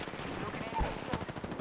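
Rapid automatic gunfire from the Apex Legends video game rattles in a dense, continuous burst, loud and close, with no pauses.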